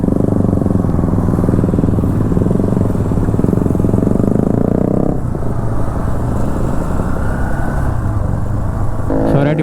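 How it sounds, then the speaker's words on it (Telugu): Several motorcycles on a weekend group ride near Gandipet Lake in Hyderabad, their engines rumbling loudly and continuously up close, with a shift in engine tone partway through and a brief rising whine near the end. "ఒక్కొక్క బైక్ అట్లా వీడియో తీసుకుంటున్నాం అనమాట."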